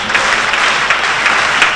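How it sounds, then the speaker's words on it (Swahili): A church congregation gives a burst of loud, dense applause, steady throughout with high ululation mixed into the clapping. "Alafu mpigie Bwana Yesu makofi na vigelegele."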